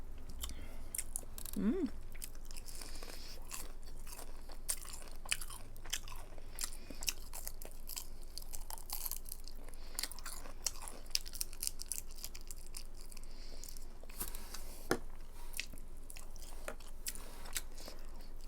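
Close, crisp bites and steady chewing of shrimp in an eating show, repeated crunchy mouth sounds throughout, with a brief hum of enjoyment from the eater.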